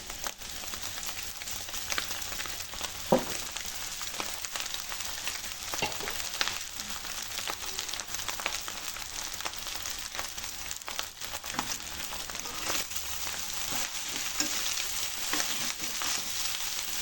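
Cooked rice is stirred and fried in a pan for egg fried rice, giving a continuous crackling sizzle with scattered scraping taps from the spatula, moderately close and without talk.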